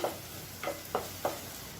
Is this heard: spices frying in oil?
yes